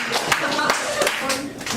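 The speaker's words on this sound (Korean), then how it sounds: "박수 주세요" An audience at a church youth worship service breaks into brief, lively applause, with overlapping claps and some voices mixed in.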